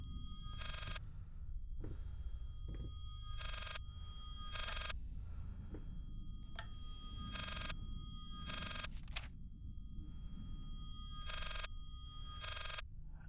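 An old-style telephone bell rings in repeated short bursts, regularly spaced, over a low steady rumble of background ambience, in the video game Layers of Fear.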